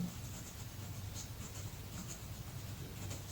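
Chalk or marker writing on a board during a class 9 circles geometry lesson, a faint, soft scratching with small repeated strokes over a quiet room hum.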